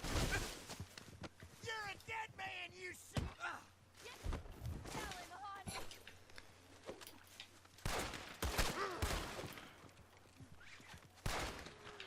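Pistol gunfire crackles in Red Dead Redemption 2 as repeated bursts of shots amid game sounds that include horse hooves, while a person talks over much of the action.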